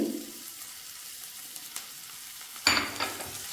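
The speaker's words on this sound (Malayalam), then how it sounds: "ഇനി ഒന്നുകൂടെ ഒന്ന് വഴറ്റി കൊടുക്കുക" A grated potato and flattened rice mixture being sautéed in a pan, with soft scraping stirs and a brief sizzle, then a louder burst of frying and clatter near the end, close by and without speech.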